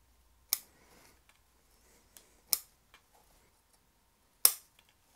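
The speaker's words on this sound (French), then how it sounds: "dès que c'est un petit peu épais, je vais utiliser ma paire de ciseaux" Sharp scissor snips cut through Pfitzeriana juniper bonsai foliage, three crisp clear cuts spaced about two seconds apart with faint rustling between, close and alone.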